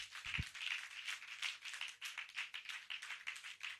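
An audience claps at a steady, moderate pace with a quiet, somewhat distant sound. The claps are fairly regular and sparse, and no talking is heard.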